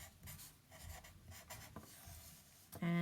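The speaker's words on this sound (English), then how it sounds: "You're writing in your book while I'm writing on my paper." A pencil scratches quietly across paper in short, irregular strokes, close and faint with no talking, ending in a brief electronic tone.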